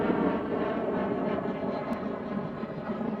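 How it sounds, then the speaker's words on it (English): An airplane drones overhead, a broad steady roar with rumbling low end that holds at an even level throughout, with no talk. "Airplane."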